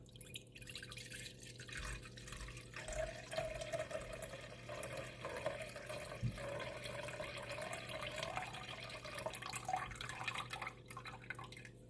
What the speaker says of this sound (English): we begin with our kava cup as we pour our kava